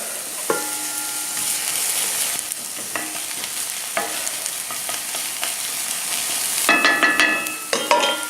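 Finely grated onions fry in a hot pan with a continuous sizzle, punctuated by sharp scraping stirs and utensil clicks that grow busier and louder toward the end; no one speaks.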